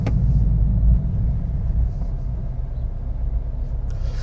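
Steady low road roar from performance all-season tires on a 16-year-old Honda while driving, a continuous rumble with a slight swell near the start and no talking.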